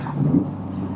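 Low exhaust burble from a UK-market Subaru Impreza STI Forged, a steady rumbling idle close by for about a second with no voices.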